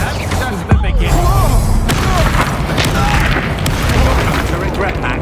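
A booming Confringo spell blast in Hogwarts Legacy, a sharp thump early on followed by a busy wash of magical combat effects and scattered impacts with voices in the mix.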